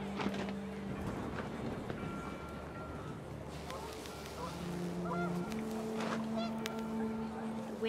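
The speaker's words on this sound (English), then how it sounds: "The wind picked up, and panicked geese appeared and quickly went." Panicked geese honk in a video game as the wind picks up, a cluster of overlapping honks and calls sounding over a low ambient wind bed, with musical tones underneath.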